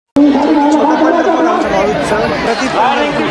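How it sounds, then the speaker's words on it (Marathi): A dense crowd of pilgrims packs the area around Pandharpur temple during the Ashadhi Ekadashi wari, giving a loud, continuous babble of many close voices with no pauses. "मुंग्या सारखी गर्दी मुंग्या सारखी पाय ठेवायला पण जागा नाही एवढी गर्दी इथं"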